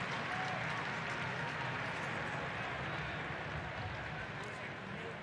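A baseball stadium crowd at a Mets at Brewers Wild Card playoff game roars in a dense, steady wash of cheering and clapping that holds loud and constant throughout.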